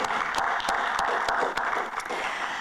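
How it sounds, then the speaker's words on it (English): Audience applause at a summit fills the room steadily, with sharp individual claps standing out over a dense wash of hands, moderately loud and without speech. "let's give a round of applause one more time for everyone who spoke today"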